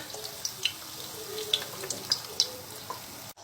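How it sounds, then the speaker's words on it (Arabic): A breaded chicken cutlet is eased into hot frying oil, giving a quiet, steady sizzle dotted with small crackles and pops, close by with no talking. "وده زيت سخن، هنزل بقى بالراحه كده"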